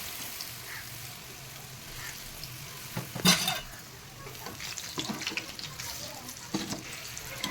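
Lentil batter fritters are dropped into hot oil and fry with a soft, steady sizzle, faint and close, with a brief sharper splash as batter hits the oil.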